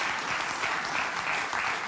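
A studio audience claps steadily throughout, a dense, even wash of applause at moderate loudness with no voices over it.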